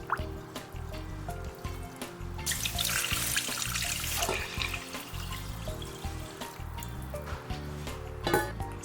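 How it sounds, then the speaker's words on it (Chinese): Rice and shiitake mushrooms are rinsed in water in a home kitchen, with continuous close running and splashing water, sloshing and trickling over a steady hiss, plus occasional clinks of a bowl. "大米也淘洗干净，加清水浸泡约1小时。"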